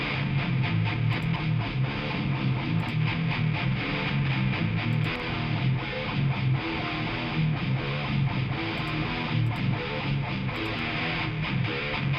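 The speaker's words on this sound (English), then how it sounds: "Phase distortion, play around with that." A dense, gritty bass line with a phasey, distorted edge from a phase distortion effect during mixing, playing continuously and loud with no voices.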